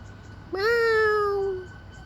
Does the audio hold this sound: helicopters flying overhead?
no